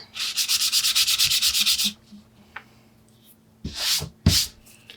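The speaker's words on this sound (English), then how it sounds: "Once you're done cutting it, sand it down smooth." A cut wooden skewer for a dollhouse miniature is sanded smooth by hand: about two seconds of quick, even rasping strokes close up, followed by quieter handling scrapes and two louder brushing rubs.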